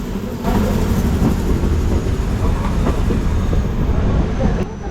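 A passenger train on the Kottayam–Kollam–Tenkasi line rolls along steadily, a loud continuous rumble from inside the carriage with faint rhythmic wheel clicks and no break in the noise.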